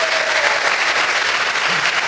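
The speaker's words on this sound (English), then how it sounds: "Let's give them a clap." Audience applause at a convention panel with actress Kate Mulgrew in Prague, a steady dense clapping from a crowd throughout, loud and close, with a faint voice underneath.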